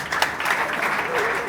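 A church congregation applauds in unison for God's glory during a prophetic service, a dense, steady wash of clapping from many hands in a large room.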